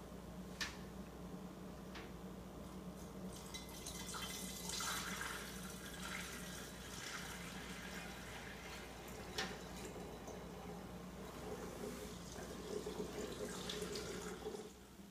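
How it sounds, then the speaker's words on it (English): Beer wort for an all-grain IPA pours from a jug into a funnel, a soft continuous splashing trickle at low level with a few faint clinks and taps, no talk. "pour it in the jug into the funnel"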